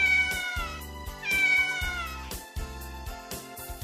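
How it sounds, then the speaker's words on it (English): A cat meows twice in clear, drawn-out cries over light background music, the second call rising and stretching longer than the first. "cat."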